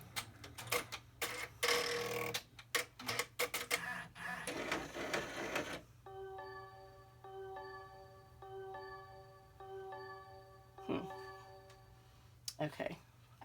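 Computerized embroidery machine stitching a hipster phone case key fob, its steady rapid needle clatter running alongside handling noise early on, then settling into a regular mechanical hum with faint ticking.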